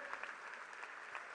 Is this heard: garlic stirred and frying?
no